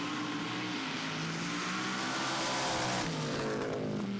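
A drag racing car engine roars loudly and continuously, its pitch sweeping as it revs, with a rough, crackling popping texture throughout and no speech.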